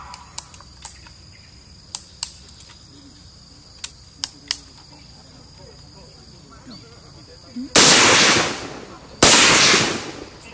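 AK rifles fire at a military shooting practice, scattered sharp single shots cracking at irregular intervals, then two long, loud, sustained bursts near the end.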